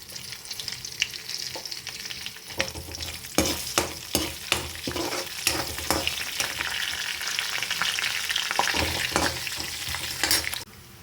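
Chana dal, mustard seeds and cumin sizzle steadily in hot oil for a cabbage dish, with a spoon clacking and scraping against the pan in irregular bursts over the continuous frying hiss.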